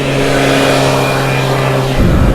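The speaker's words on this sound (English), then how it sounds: "Scooters are just loud and slow." A loud motor scooter drones past a cyclist on a long bike tour, its engine tone steady and close before dropping in pitch as it goes by.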